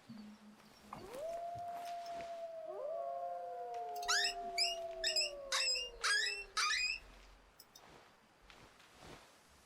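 A predator call in the Way of the Hunter hunting game gives long, gliding wolf-like howls that overlap, followed by a run of short yipping cries, all fairly loud over a quiet outdoor background with no talk.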